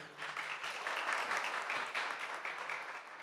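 An audience at a maskandi festival media briefing claps in a steady, dense round of applause that swells slightly and holds for a few seconds, with no talk over it.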